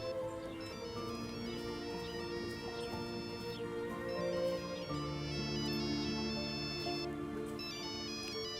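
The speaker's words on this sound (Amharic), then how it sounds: "ስልኬ እየጠራ ነው።" A mobile phone ringtone plays a repeating electronic melody of bright, steady tones, moderately quiet and alone without talk.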